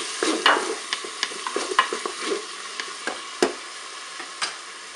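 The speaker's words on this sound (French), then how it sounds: "Les lardons commencent à faire de la graisse, je vais ajouter mon oignon tout en morceaux." Bacon lardons and chopped onion frying in a Cookeo pot, with a soft steady sizzle under irregular scraping and stirring knocks from a utensil against the pot, close and clear.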